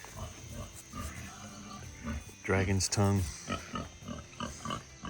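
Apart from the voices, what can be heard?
hungry pigs grunting in the background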